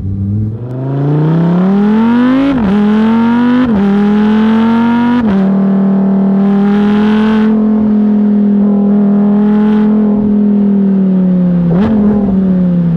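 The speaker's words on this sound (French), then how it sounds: "C'est déflagration à chaque rétrogradage, c'est un coup de canon." Lamborghini Huracan Evo fitted with an Akrapovic exhaust, heard up close as a loud, sustained engine drone that steps up in pitch and drops back on gear changes, with sharp transient pops near the downshifts.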